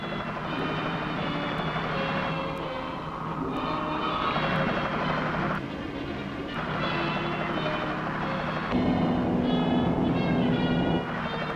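A naval helicopter operating from the Dutch ship Karel Doorman, hunting a submarine, drones steadily and loudly for the whole stretch with a continuous engine and rotor roar and no voices.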